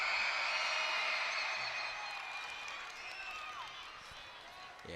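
Crowd inside a women's college basketball arena at Wisconsin during free throws, a steady loud roar of voices with a high whistling tone running through it, fading slightly while a commentator talks.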